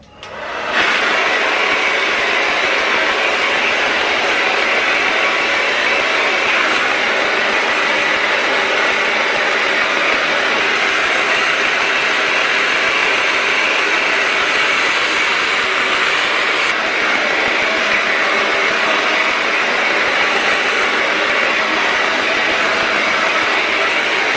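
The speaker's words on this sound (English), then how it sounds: "So I am done diffusing my hair" Hair dryer with a diffuser drying curly hair, a loud, steady, close whooshing roar that switches on at the start and runs unbroken for over twenty seconds with no talking.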